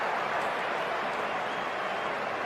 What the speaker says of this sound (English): Have to listen to the noise of that crowd.